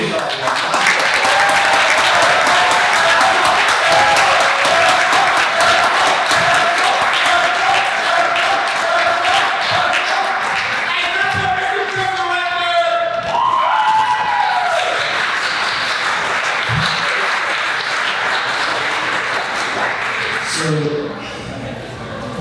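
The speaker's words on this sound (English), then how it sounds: "Please give a warm round of applause to our valedictorian" An audience at a high school graduation ceremony gives the valedictorian a sustained, loud round of applause, with scattered cheers and whoops rising over the clapping before it thins out near the end.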